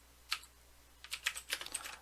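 Typing on a computer keyboard to enter a chart title. One isolated keystroke comes first, then a quick, irregular run of soft, close clicks.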